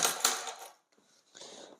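Coins are handled and let fall, bright metallic jingles and clinks close by: a busy burst at first, a short quiet gap, then a softer rattle of coins settling.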